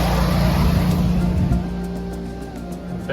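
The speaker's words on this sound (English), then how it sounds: "Generator started." A Generac home standby generator runs steadily, a loud close engine drone that settles into an even hum partway through, with a faint high whine above it.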